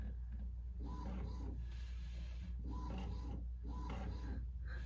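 A printer printing tax forms for a partnership return, a quiet repeated mechanical whirring and shuffling in a steady rhythm of passes, alone with no talk.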